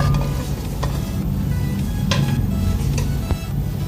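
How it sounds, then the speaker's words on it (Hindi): Chopped onion tossed into a hot pan with meat for pulao biryani, a dense continuous sizzle with light clicks of stirring, close and steady throughout. "जो हमने प्याज काटी थी, ये प्याज हम इसमें डाल देंगे।"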